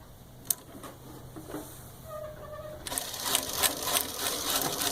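Pfaff 561 needle-feed industrial sewing machine with a servo motor stitching through three layers of heavy velvety couch fabric, starting slow and faint, then running faster with a steady rapid clatter.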